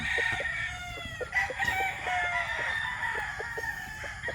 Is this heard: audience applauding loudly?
no